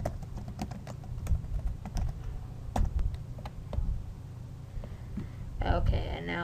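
Steady, close clicking of a computer keyboard as code is typed, irregular rapid keystrokes continuing throughout, with a person speaking over part of it.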